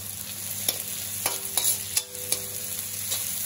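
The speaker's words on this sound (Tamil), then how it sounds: "வெங்காயத்தை நல்லா செவந்து வர வரைக்கும் வதக்கிக்கலாம்." Onions sautéing in hot oil with mustard and fennel seeds for a Sunday mutton curry, giving a steady soft sizzle with a few light stirring clinks and scrapes close by, no talking.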